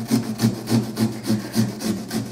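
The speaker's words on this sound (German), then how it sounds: "Das ist richtig wie eine Säge" A small serrated pumpkin-carving saw cuts into a pumpkin with steady back-and-forth strokes, about eight even rasping pulls, close and fairly loud with nothing else heard.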